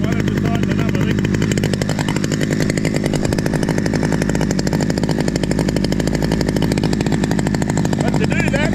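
A Stihl 009L chainsaw runs steadily nearby with a rapid, raspy, pulsing drone. Its chain may be slightly loose, and a voice is heard over the engine.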